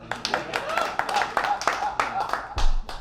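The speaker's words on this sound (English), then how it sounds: "Usually people clap after I say that." Scattered audience clapping at a live host set at the Cask Comedy show during the Milwaukee Comedy Festival, a short burst of claps mixed with voices and room noise, fairly close.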